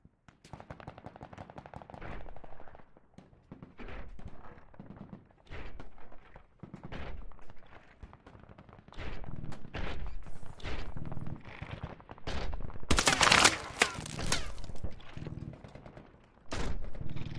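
Gunfire in the video game Call of Duty Advanced Warfare, repeated bursts of automatic shots and single cracks spread across the stretch, with a louder, denser volley near the end.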